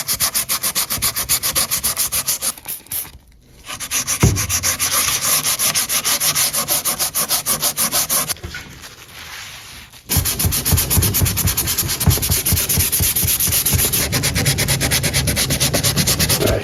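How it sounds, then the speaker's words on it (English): Oven glass is wet-sanded by hand with fine 2500-3000 grit sandpaper, a loud, close, rapid rhythmic rubbing that runs continuously with two brief pauses, no talk. "I have a finer grain sandpaper that I'm gonna go over with this and smooth it all out"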